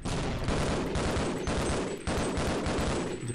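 Rapid, dense video game gunfire, loud and continuous, with bursts of shots running through the whole stretch and no pause.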